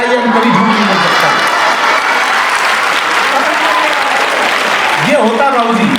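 Audience applauding steadily at a Hindi comic poetry show, a dense sustained wash of clapping throughout, with a voice surfacing near the start and again at the end.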